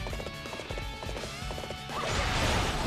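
Rapid hoof clip-clop of a horse galloping in the video game Dynasty Warriors 8, a fast steady rhythm over battle ambience that swells into louder crashing noise near the end.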